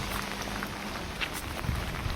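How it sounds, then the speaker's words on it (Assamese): Steady rain falls in a Kerala village, a dense, even hiss of drops on surfaces filling the short stretch with a few slightly louder patters near the end. "কেৰেলাত চাওক বৰষুণ কেনেকা দি আছে।"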